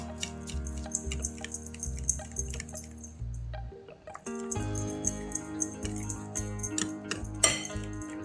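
Banana snack being tossed together with almonds and toasted black sesame: light clinking and scraping of a utensil against a bowl in irregular taps, close and clear, with music playing underneath.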